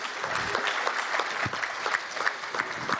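Applause from a conference audience for a speaker on an insurance-finance panel, a full, even wash of clapping throughout with no talk over it.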